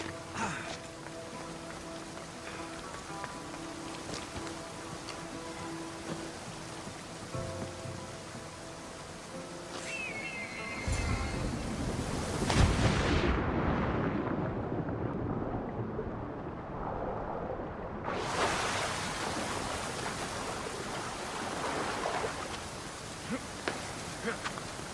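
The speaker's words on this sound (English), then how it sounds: "This is the waterfall." Rushing waterfall in Assassin's Creed Odyssey, a steady broadband roar that swells loudly partway through and keeps pouring, with brief voice-like bits early on.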